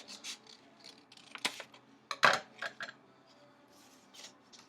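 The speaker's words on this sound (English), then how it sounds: "I'm going to take my scissors and I'm going to cut off just part of the fold." Scissors snipping through folded paper at close range: a few short, crisp cuts, with the sharpest snips near the middle, over quiet rustling and no speech.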